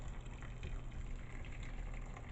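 Hot turkey broth pours and splashes over a stovetop in a home kitchen, a steady, dense liquid gush holding at an even level throughout with no talk.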